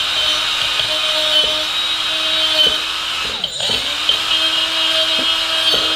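A battery-powered Milwaukee drill with a half-inch bit bores into an AC compressor for a Jeep Wrangler JK Hemi conversion, giving a close, steady whine with repeated short bursts and a brief pause partway through, with no voices.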